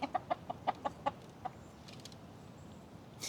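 Backyard hens clucking in warm weather, a quick series of close, distinct clucks that then trail off into quiet outdoor ambience.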